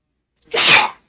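A single sharp sneeze, close and loud, bursting out after a brief quiet moment.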